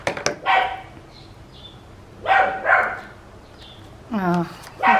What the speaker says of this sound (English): He might be barking at the kudu that come into my garden.